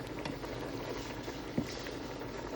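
An omelet cooks in a hot frying pan, giving a steady, low, bubbling sizzle with a single small pop partway through, heard alone without talk.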